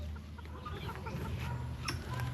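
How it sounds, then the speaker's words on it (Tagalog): Soft, low clucking from several chickens on a farm, fairly faint and steady, with a bit of background noise. "Daghan na manok dito."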